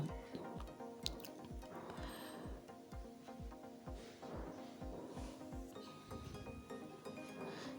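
Washed, wet lafa greens are lifted into a basket, giving a close, quiet run of regular drips and soft wet squishes, roughly two or three per second, over a faint background hum.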